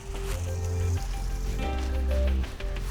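Maple syrup and a little butter sizzling in a hot bacon pan, a steady close crackling fizz with bubbling pops and faint low tones underneath, with no voices.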